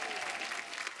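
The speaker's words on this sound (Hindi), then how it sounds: "बहुत एक बार जोरदार तालियां हो जाएं" A studio audience at a comedy talk show bursts into loud, dense applause, a continuous clatter of many hands over about a second.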